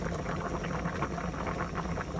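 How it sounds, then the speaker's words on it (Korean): Vegetable soup bubbles steadily in a pot, a soft continuous burbling boil with small pops, heard close and alone without talk. "잘 끓고 있네요. 보글보글보글보글보글."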